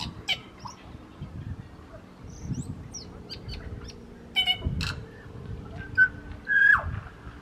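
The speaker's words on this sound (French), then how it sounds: "On est au son des oiseaux." Scattered bird calls, chirps and a few whistles, plus some lower honking or gobbling sounds, over quiet outdoor background.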